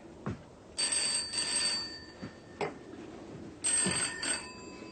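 An old-style telephone bell rings in short bursts with pauses between them. It is fairly clear in a quiet room, and a few soft knocks and movements sound between the rings.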